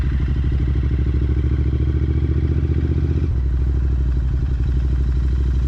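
Royal Enfield Continental GT 650 ridden in hot summer weather in Dubai, its steady mid-pitched engine thrumming loudly and continuously, with a brief dip in tone partway through as if shifting.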